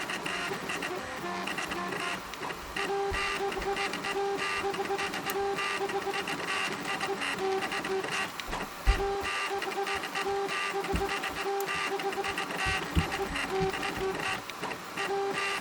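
An Ender 3 3D printer running at 180 mm/s with 4,700 mm/s² acceleration gives off a steady, close whirring hum of stepper motors with shifting tones and small clicks, continuous throughout, with no talking.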